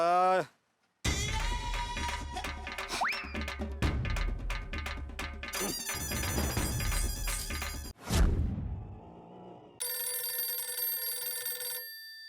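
A phone ringtone plays loudly in several bursts of bright electronic melody, separated by short gaps and abrupt changes in tune.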